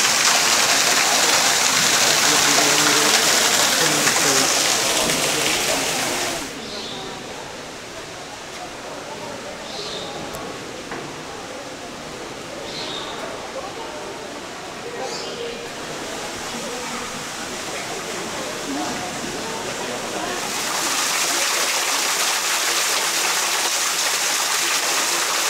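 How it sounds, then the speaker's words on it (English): A small waterfall in a Japanese park splashes in a steady rushing hiss, louder at the start and end and softer in the middle. "A little tiny waterfall going over here."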